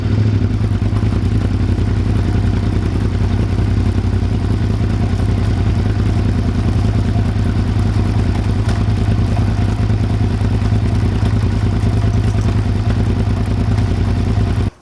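A worn drive chain runs on a Suzuki SV650S motorcycle, giving a loud, continuous mechanical whir and clatter over a steady engine drone, close up and unbroken throughout.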